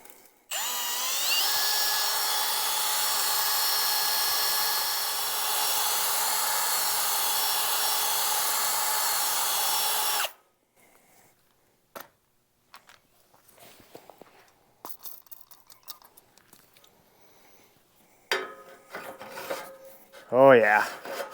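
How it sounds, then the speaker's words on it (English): A powered hone runs through a drilled hole in metal on a grapple build to clean its edges, a loud steady whirring grind for about ten seconds that then stops, followed by scattered clanks and handling noises. "I'm gonna try running the hone through, see if I can clean up some of those edges"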